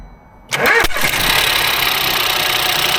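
Ford EcoBoost car engine cranking briefly and catching, then settling into a steady, loud idle close by, after a short quiet lead-in.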